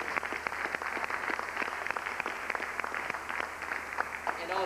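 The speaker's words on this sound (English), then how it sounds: "Clap it up for the Brother Munir once more." Audience applause from a crowd at a gathering, dense steady clapping across the whole stretch with a faint voice underneath.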